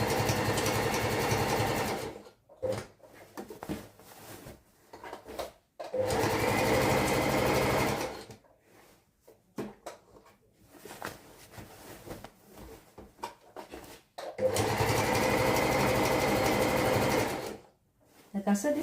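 A sewing machine stitches fabric for baggy pants in bursts of steady, rapid whirring, stopping and restarting several times, with quiet pauses and occasional talk between runs.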